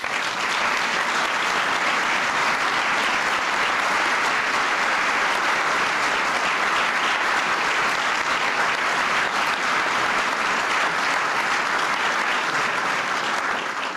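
An audience applauds and cheers in a sustained, even wash of clapping that stays loud from start to finish, with no voices rising above it.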